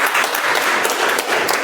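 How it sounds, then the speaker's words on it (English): Steady applause from a meeting audience greeting a first-time Sergeant at Arms, dense, continuous clapping throughout at close range with no talk over it. "Let's give a better applause"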